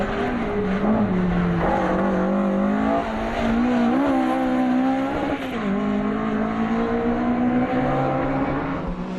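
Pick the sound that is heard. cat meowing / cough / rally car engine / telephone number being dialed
rally car engine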